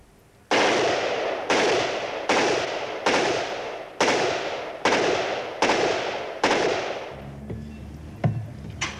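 An Armalite rifle, a standard US Army issue weapon, fires eight loud single shots at a steady pace under a second apart, each crack trailing into a ringing echo, followed by a few faint knocks.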